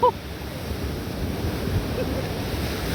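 Ocean surf rolling in at Fort Walton Beach on a cold day, a steady broadband wash of waves mixed with wind buffeting the microphone, continuous and fairly loud without clear breaks.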